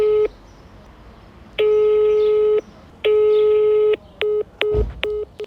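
A telephone call goes unanswered as a busy signal repeats: long steady beeps, then a run of short quick pulses, with quiet gaps between them and faint background noise.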